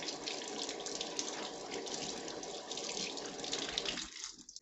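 Tap water pours steadily while fruit is washed under the faucet, a close continuous splashing rush that cuts off abruptly near the end, leaving brief quiet handling sounds.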